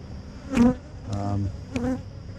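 Honey bees buzz around a small Pro Nuke hive, several close passes droning in and out over a steady low hum.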